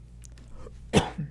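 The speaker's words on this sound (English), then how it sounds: "Sorry, got a little bit of a cough." A single sharp cough from a man, near and loud, followed by a smaller throat sound, with no talking during it.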